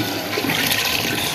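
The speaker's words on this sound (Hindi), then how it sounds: "पानी भी हमने इसमें डाल दिया है देचकी में" Water poured into a cooking pot of beef haleem, a steady rushing splash that fills the whole short stretch at fairly loud level with no voices.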